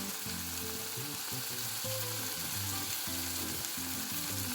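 Tomatoes fry in a pan for a street-food chicken roll filling, giving a steady, close sizzle with low rumbling and clattering beneath it throughout, with no voices.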